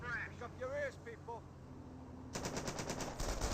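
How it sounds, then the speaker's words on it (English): Engineers in the video game Company of Heroes fire on Panzer Grenadiers, a rapid rattling burst of gunfire starting partway through, preceded by a voice talking over quieter game sounds. "the engineers just turn around and start shooting the Panzer Grenadiers"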